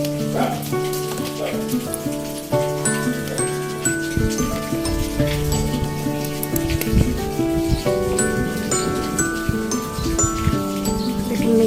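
Light rain falls in scattered drops, pattering softly and continuously on surfaces outdoors, mixed with steady tonal sounds in the background.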